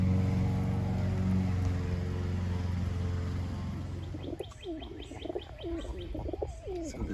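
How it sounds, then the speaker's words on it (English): A rolling pigeon coos in a loft in soft, repeated, throaty bursts near the microphone, following a stretch of steady mechanical hum. "So this is a little rolling pigeon"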